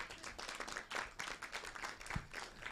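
Audience applause greeting a conference moderator at a fair, a short burst of scattered clapping that stays fairly steady and moderately loud throughout, with no speech over it.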